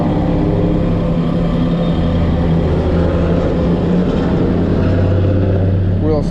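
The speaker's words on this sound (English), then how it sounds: "Now this one is a 4x4, which means I've got 8x8, which means I've got 8 forward speeds and 8 reverse speeds." A 2023 Mahindra 1626 Shuttle 4x4 tractor running, its engine a loud steady low drone close by, with someone talking over it throughout.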